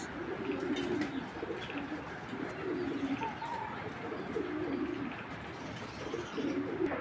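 A pair of big Maxi racer pigeons cooing in soft, repeated low phrases that recur steadily against a faint background.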